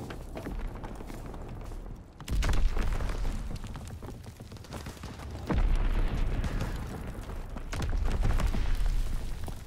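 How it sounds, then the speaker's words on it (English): An Azon bomb exploding in a WWII video game: three heavy booming blasts, each a sudden deep rumble that swells and lingers, spaced a few seconds apart over a constant background roar. "dropping Azon bomb."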